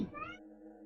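A cat meows in the video game Impostor Factory: one short, close, clear call with a rising tone that fades quickly into quiet game ambience.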